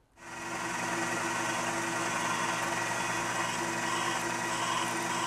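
A geared-down, high-torque motor turning an eccentric cam that bumps a stack of toothpicks in a dispenser, heard as a steady, close mechanical hum and buzz with a faint repeating tap that runs without pause after a quick start.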